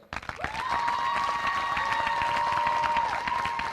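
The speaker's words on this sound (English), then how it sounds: "let's give your parents a round of applause" Crowd applauding at a high school graduation ceremony, steady clapping with a sustained whistle-like tone running over it, short and continuous.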